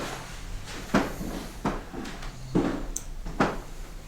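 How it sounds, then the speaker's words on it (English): Wooden floors in an old house's sitting room creak underfoot in about five separate groans spaced through the scene, each a short low creak over quiet room tone. "squeaky floors."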